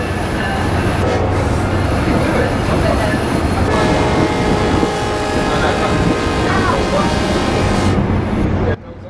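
A train runs on the rails near Bangor in Wales, with a loud, steady rolling rumble and rattle that continues throughout, close and unbroken.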